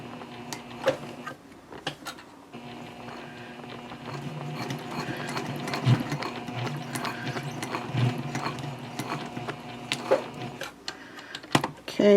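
A domestic sewing machine stitching a backpack, running steadily with a mechanical whirring and clicking drive and occasional louder knocks, fairly close and continuous, with no speech over it.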